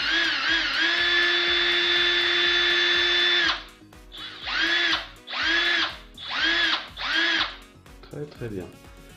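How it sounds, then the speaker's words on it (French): A TECCPO TDHD01P cordless drill-driver whirs at full speed for a few seconds, then runs in four short bursts with pauses between, loud and close. "Donc ça c'est la visseuse. Et le perforateur."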